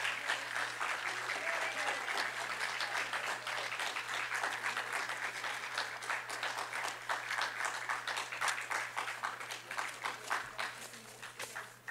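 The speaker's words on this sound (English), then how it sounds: "let's keep the applause going" Continuous, steady audience applause at the Silver Awards 2023 ceremony, dense and even throughout, with a faint low hum in the background.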